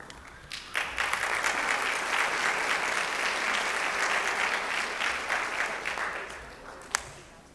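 An audience at a fundraiser breaks into sustained applause as names are read, a dense wash of many hands clapping that holds steady for several seconds, then thins and tapers off.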